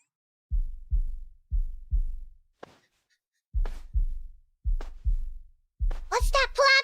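Heartbeat sound effect in the Blue Archive video game: deep, loud paired thumps repeating in a steady lub-dub rhythm, with a brief soft tap between beats and a voice starting to speak at the end.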